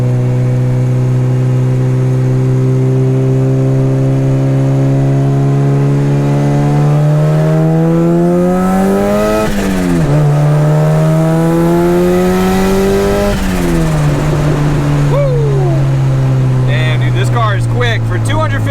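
A pink turbocharged Honda Integra engine revs hard through the gears, with a loud, close, continuous drone that climbs in pitch, drops at each shift and climbs again, ending with turbo whooshes and flutter.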